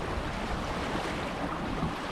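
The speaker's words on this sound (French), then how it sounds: "Il y a quand même beaucoup de mer là, je sais pas si vous voyez les vagues." Heavy sea swell and breaking waves surround a Mini-class racing sailboat offshore, heard as a steady broadband wash of water and wind noise on the microphone, close and continuous with no voices.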